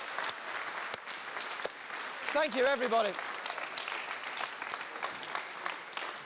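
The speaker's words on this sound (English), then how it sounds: "A round of applause" A television studio audience at a stage magic show applauds a participant with sustained clapping and crowd noise, while someone speaks briefly over it near the middle before the applause carries on at a steady level.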